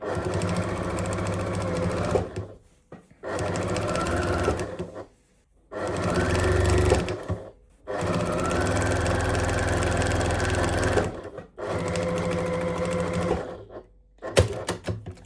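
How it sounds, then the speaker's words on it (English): Sewing machine stitching down the fold of a cloth napkin, running in several steady, close whirring bursts separated by short pauses, with no talking. "I've got this side of my presser foot here just up against the fold, and then I'm just going to stitch all the way down."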